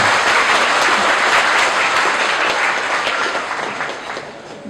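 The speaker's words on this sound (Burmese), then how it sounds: "မ င်္ဂလာမင်းပရိသတ်အပေါင်းတို့မှဝမ်ပတ်တတာလက်ခုပ်ဩဘာများချီးမြှင့်ကြပါရန်လေးစားစွာပန်ကြားအပ်ပါခင်ဗျာ။" Sustained applause from wedding guests, loud and dense throughout, tapering slightly toward the end.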